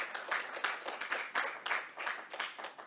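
An audience at a city council meeting claps in a soft, steady patter of hands, fairly faint and evenly spread over a few seconds.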